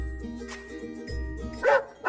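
A dog gives a few short barks, fairly close, over a soft, steady musical tone in the background.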